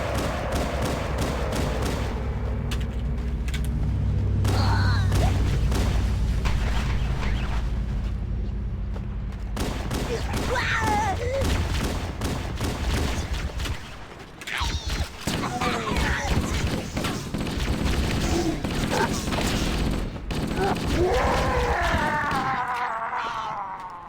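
Gunfire and thudding impacts in Halo: Combat Evolved, loud and sustained in stretches under game music and effects, with a voice occasionally speaking over the action.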